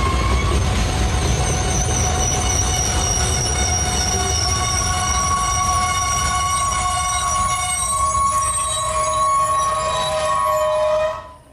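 A train grinds into a station and stops, steel wheels squealing in long sustained high whines over a loud rumble that holds steady, then fades out as it halts.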